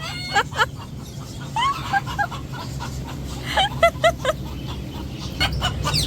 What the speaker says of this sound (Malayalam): കോഴികളൊക്കെ ഇങ്ങനെ ബഹളം ഉണ്ടാക്കുന്നത്